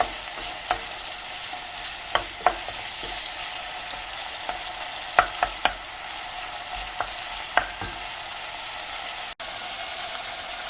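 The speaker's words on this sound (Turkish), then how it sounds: "Şimdi bu aşamada etlerimi de ilave edip Onları da kıvıracağım." Meat frying in a pan for a Turkish bean stew with meat, a steady sizzle with scattered stirring clicks and scrapes, close and fairly loud, no talking.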